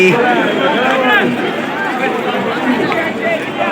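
Dense chatter of a huge crowd of pilgrims gathered on the Chandrabhaga riverbank at Pandharpur, a loud, continuous babble of many voices heard from nearby.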